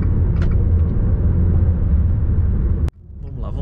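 A Fiat Toro Volcano 2.0 diesel pickup accelerating on a road gives a steady, loud engine rumble from inside the cab that cuts off abruptly near the end, leaving a quieter hum.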